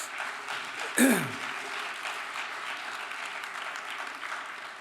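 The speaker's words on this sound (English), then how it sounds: "Let's give all the awardees another round of applause." A large audience applauds awardees at a university honors convocation, steady crowd clapping throughout, with a brief sharp burst near the start that sweeps downward like a feedback squeal or whistle.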